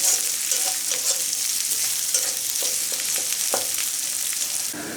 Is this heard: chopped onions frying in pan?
yes